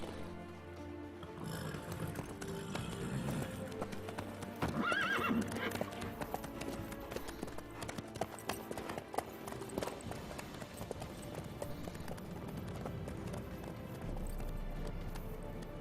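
A horse gallops in The Witcher 3, a steady, close clip-clop of hooves that runs throughout, with a whinny early on and no one talking.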